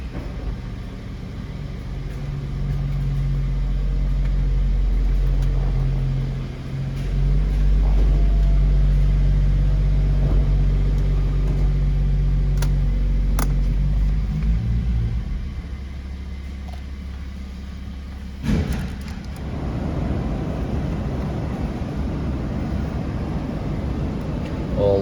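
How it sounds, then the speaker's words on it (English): A BMW 3 Series convertible roof lowers with a long, steady mechanical hum over a low idling rumble, ending in a distinct clunk as it settles. "I'll just drop the convertible roof to show you that works with no problems at all"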